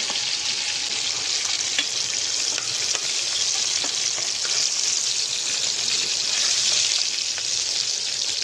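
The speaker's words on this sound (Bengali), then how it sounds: "তো মাছগুলো এখানে আমার ভাজা হয়ে গেছে, এবার আমি এগুলো প্লেটের মধ্যে তুলে নেব।" Aila fish frying in oil in a pan as the pieces are lifted out, a dense, even hiss and crackle of hot oil, loud and close, with faint scattered pops and no speech.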